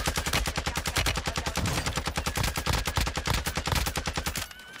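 Rapid sustained automatic gunfire from the Warzone 2 video game, likely an ISO Hemlock rifle, in a steady fast rhythm of loud close shots lasting several seconds before stopping abruptly.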